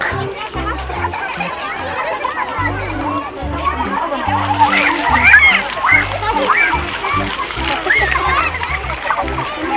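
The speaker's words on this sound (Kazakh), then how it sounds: "Осындай фонтан бар екен." A fountain in the Almaty botanical garden on Timiryazev Street splashes water steadily and fairly loudly, while children talk and play close by throughout.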